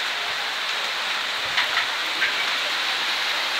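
Rain falls steadily over a garden in Paphos, Cyprus, an even broadband wash with occasional brief louder splashes, heard alone without any talking.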